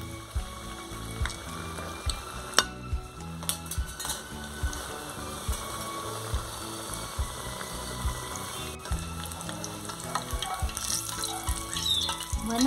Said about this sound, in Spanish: ahora vamos a freír los tacos.